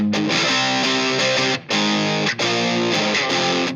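Electric guitar through a Boss DS-1 or SD-1 pedal set for lighter distortion, strummed chords ringing out with brief pauses between phrases, loud and up close with no talking.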